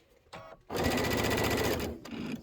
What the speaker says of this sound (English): I'm just going to go ahead and stitch the whole thing